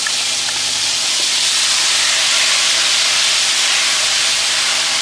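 Tomato paste hits hot oil in a pan while vegetable biryani is being cooked, giving a loud, steady, hissing sizzle that fills the whole moment without letting up.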